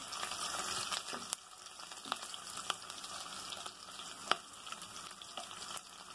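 Cinnamon sticks and cardamom pods fry in hot oil, giving a soft, steady crackling sizzle with scattered sharp pops and a few light utensil taps, fairly quiet and close, no voices.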